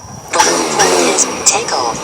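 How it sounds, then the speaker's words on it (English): Drone motors spin up as both control sticks are pulled in, a steady whirring hum that starts abruptly and holds close and fairly loud, with a voice over it. "first thing we do is we start the engines by pulling both of these in"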